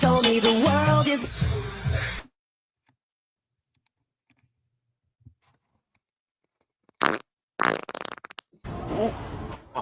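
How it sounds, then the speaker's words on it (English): Played-back fart recording during a live stream: loud talk gives way to near silence, then a few short sharp blasts of sound and a sputtering burst toward the end. "Like I didn't hear that fart the first time I played that one"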